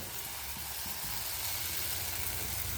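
Onion, tomato and turmeric sauté in a hot pan, giving a steady, close sizzle that holds for the whole moment with no voices.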